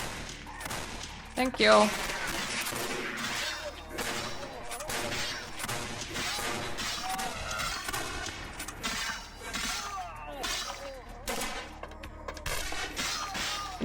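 Gunfire in the Vampire: The Masquerade – Bloodlines video game with the Antitribu mod, a stuttering fusillade of shots with a sharp crash early on, layered with game music and a brief voice.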